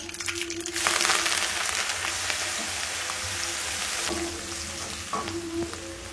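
Green chillies and curry leaves sautéing in a pan for tamarind-ginger puli inji, a loud continuous sizzle and crackle with stirring scrapes throughout.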